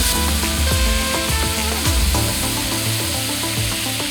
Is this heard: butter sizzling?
yes